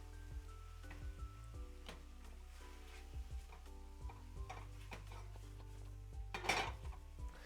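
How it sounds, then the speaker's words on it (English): Mushrooms frying in a pan in a home kitchen, a soft sizzle under repeated clinks and scrapes of a spoon against the pan, with a low hum underneath. "whenever it starts sizzling, whenever it starts sticking, that's when we'll go in with the butter."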